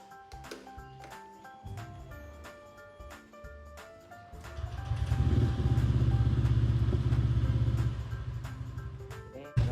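An Aes Turbo SE motorcycle engine starts and runs, idling unevenly at first and then revving to a steady, louder throttled drone with clattering mechanical noise, close by, with no one talking.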